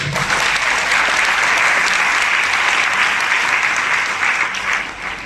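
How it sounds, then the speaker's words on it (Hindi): Audience applause following a talk fills the room, dense and loud clapping sustained evenly for several seconds before tapering slightly at the end, with no speech over it. "अच्छा था, तालियां तो लगी।"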